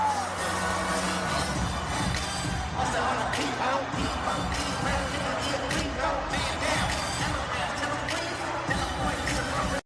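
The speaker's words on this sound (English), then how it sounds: "the crowd is louder than the actual music" A dense, roaring crowd at a concert cheers and shouts continuously for the whole stretch, loud and enveloping, with a voice talking over it.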